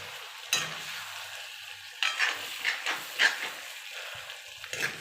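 Pork with chicken and meat masala is stirred in a pan: a spatula scrapes in several short bursts over a soft, steady sizzle, close by with no talk.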